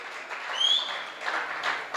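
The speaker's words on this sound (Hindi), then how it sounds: "तो तालियां यार कम से कम बजा दो तो सही बुड्ढे के लिए।" An audience at a kavi sammelan poetry recital applauds in a dense, even patter of many hands, fairly near and sustained for a couple of seconds.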